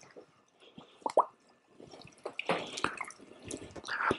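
Rolls of plaster of Paris bandage are dipped into a basin of water, giving quiet, close plops, drips and sloshing splashes, scattered and irregular, growing busier toward the end.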